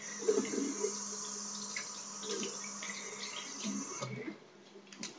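Steady tap water running into a sink with splashy spatter, close by, continuing for several seconds before easing off near the end.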